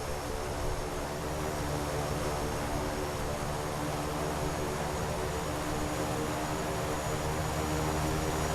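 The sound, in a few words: King Air C90 turboprop aircraft engines during takeoff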